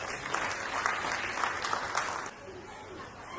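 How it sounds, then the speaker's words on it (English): Warm applause from an audience at a school annual function, greeting a speaker as he comes up to address the gathering; steady dense clapping that eases off after about two seconds. "Please welcome him with a warm round of applause."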